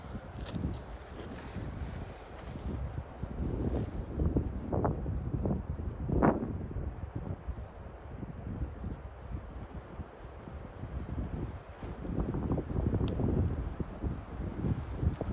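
Wind gusting across an outdoor campfire, producing rough, fluctuating buffeting and rumbling against the microphone with occasional sharper pops and crackles, continuous and moderately loud with no talking.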